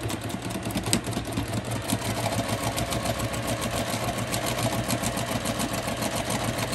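A sewing machine stitching quilt pieces runs in a steady, close, rapid mechanical whir with a fine rhythmic clatter, even and continuous throughout, with no talking.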